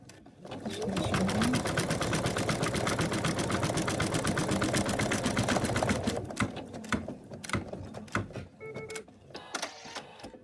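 A sewing machine stitches the ear of a teddy bear in a fast, steady, rattling run for about five seconds, then stops, leaving a few faint clicks and handling noises.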